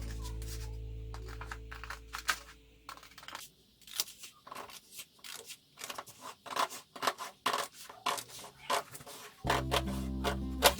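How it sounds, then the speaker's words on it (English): Scissors snipping through a paper sewing pattern along the back armhole line of a mini sleeve pattern, a quick irregular run of close crisp cuts and paper rustles with brief pauses in between. "So taking a pair of scissors which are not meant for fabric, I'm going to cut along the back armhole line and then all the way down."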